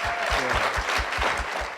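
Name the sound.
applause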